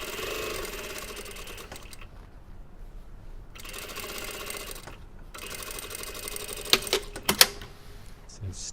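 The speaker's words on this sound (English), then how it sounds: "So stitched around there at 6mm." Sewing machine stitching the seam of a jeans pocket bag, running in a few steady bursts separated by short pauses, with a couple of sharp clicks near the end.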